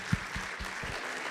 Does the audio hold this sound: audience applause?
yes